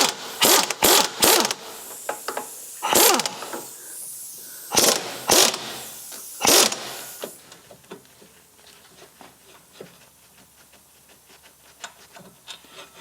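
Bolt on a BMW Z3 rear brake caliper is undone with a power tool in several short loud bursts with pauses in the first seven seconds, followed by faint metallic clicks and handling.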